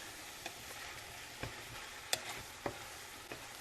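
Pasta primavera vegetables are stirred in a pan over a soft, quiet sizzle, with about five sharp utensil scrapes and clacks spaced irregularly across the few seconds, no voices.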